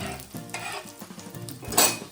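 Mashed pea cutlets being set down on a hot oiled griddle, with steady close sizzling and frying crackle, a few light scrapes of a spatula and a sharper burst of sizzle toward the end; no talking.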